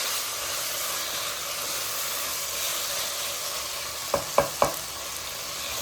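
Tomatoes sautéing in a pan for mutton biryani, a steady broadband hiss of sizzling oil, then three quick clacks of a spoon or spatula stirring near the end, no speech.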